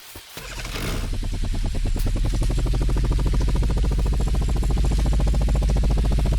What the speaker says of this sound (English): Let me just quickly place down this tractor.